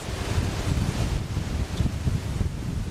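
Steady outdoor wind gusting and rumbling against the microphone, continuous low buffeting over open ground near trees and a hedge, loud and unbroken with no talk.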